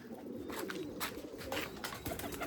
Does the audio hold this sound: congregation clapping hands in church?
no